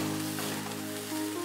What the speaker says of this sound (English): saute for another minute.